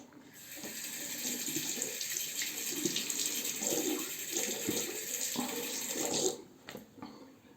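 Water runs from a sink tap in a steady close stream while a razor is rinsed, cutting off sharply near the end, fairly quiet with no voices.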